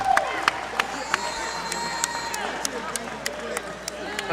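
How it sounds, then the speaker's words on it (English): Crowd at a wheelchair softball game applauding a player with steady, moderately distant clapping and sharp individual claps, under a commentator's voice. "A little round of applause for Bud here."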